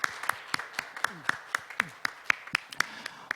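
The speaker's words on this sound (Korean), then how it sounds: "우리 하나님께 영광의 박수 올려드리겠습니다" Congregation at a church youth winter retreat service clapping in praise to God, a sparse run of individual sharp claps, roughly ten or so, spaced irregularly and fairly close, with a faint murmur underneath.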